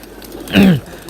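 A single pigeon coo sounds close and clear from a rooftop pigeon loft, a short throaty rolling call lasting about a quarter second over faint background.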